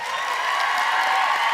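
Audience applause fills a theatre awards show for a youth drama competition, a steady, dense wash of clapping from a large crowd that holds at an even level throughout.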